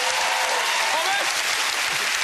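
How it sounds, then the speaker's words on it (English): Loud studio audience applause on a family game show for the Judd family, dense continuous clapping with a faint voice under it. "Give them a massive round of applause"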